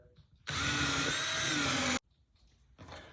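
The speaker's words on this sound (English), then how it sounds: "I had to change my countersink bit here, but that's gonna be perfect" Power drill fitted with a countersink bit drives a screw into a wooden boat transom in one loud, steady whir of about a second and a half, starting and stopping abruptly, quiet workshop before and after.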